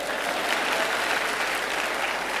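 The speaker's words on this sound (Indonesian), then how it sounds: "Tepuk tangan untuk koan." An audience at a spiritual revival gathering claps in a steady, dense round of applause that stays loud and even for its whole length, with no talking over it.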